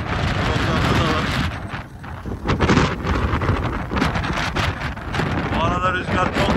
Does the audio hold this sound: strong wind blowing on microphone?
yes